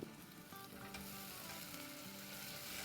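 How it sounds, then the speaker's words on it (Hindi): Garlic and green chili paste sizzling in hot oil in a pan, a steady close frying hiss with light stirring, continuous and alone. "अब इसको थोड़ा सा सौटे करेंगे"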